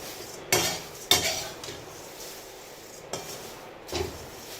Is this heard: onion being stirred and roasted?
yes